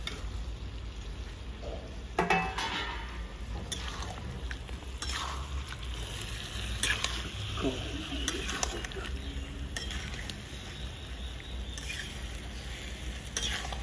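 Chicken and potato curry with sour yogurt sizzles in a pan as it is stirred, with irregular scraping and light clinks of utensil on metal over a constant quiet frying hiss.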